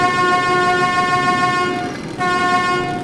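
A train horn blares continuously in the Metro 2033 video game, a loud sustained multi-tone blast that dips briefly near the end before resuming at full strength, with no talking over it.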